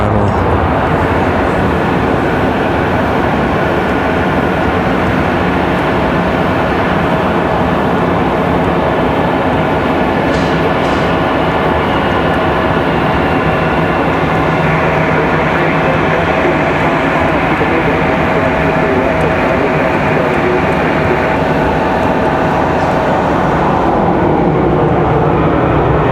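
A Southwest Airlines jet arrives on the runway at Raleigh Durham International Airport, its engine roar loud and steady throughout, a broad continuous rumble with no voices over it.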